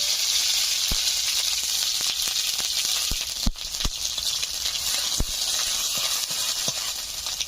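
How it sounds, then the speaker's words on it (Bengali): Paste hisses and sizzles steadily in hot oil, with scattered sharp pops and crackles breaking through the constant frying noise. "গরম হয়ে গেছে, কড়াইতে দিয়ে দিচ্ছি পেঁয়াজ, আদা, রসুন বাটা।"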